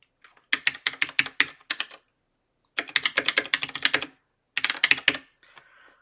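A password typed on a computer keyboard: three bursts of quick, crisp keystrokes close up, separated by short silences, with a softer trailing tap at the end and no voice.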